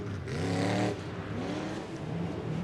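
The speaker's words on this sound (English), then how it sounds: "show us a little power in underneath the hood of that 1962 Willys Jeep" A 1962 Willys Jeep stadium truck engine revs hard at a Seattle Monster Jam arena competition, one strong rising surge that falls back to a rumbling idle and then builds again, loud and close over crowd noise.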